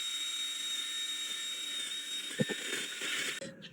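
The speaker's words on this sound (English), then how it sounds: "I'm wire brushing the hub face." Wire brush working the hub face of a 2004 Toyota Corolla during a brake and rotor job, a steady high-pitched whirring scrape that holds for several seconds, with a couple of brief knocks near the end.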